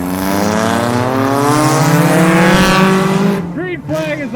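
Race cars at the Old Milwaukee 30 accelerating hard in a pack on a green flag restart, a loud layered engine roar with rising pitch that sweeps past, then a sharper tone, with a commentator talking over it.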